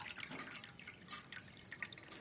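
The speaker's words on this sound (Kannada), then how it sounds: "ಮೊದಲಿಗೆ ಒಂದು ಬುಟ್ಟಿಯಲ್ಲಿ ನೀರು ಹಾಕ್ಕೊಂಡು" Water splashes and drips faintly into a basket, a soft, uneven trickle with small droplet plinks, quiet and close with no talking.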